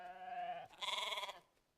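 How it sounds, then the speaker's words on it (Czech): A donkey in the Star Stable Online video game calls out while being petted, one short two-part bray rising and then shifting into a brighter, harsher second burst before fading. "To je ten klasický oslík."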